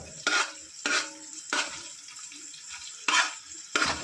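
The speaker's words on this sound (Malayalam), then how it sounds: "ഈ സവാള ഒന്ന് സെറ്റാണ്. സവാളയിലാണ് നമ്മുടെ ഫ്രൈഡ് റൈസ് കിടക്കുന്നത്." Onions sautéing in a pan for home-made fried rice: five short bursts of scraping and sizzle as the pan is stirred, close by, with quieter frying between them and no talk.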